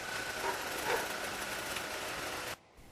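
A car engine idles just after an oil change, a steady broadband hum holding level for about two and a half seconds before cutting off abruptly into near silence.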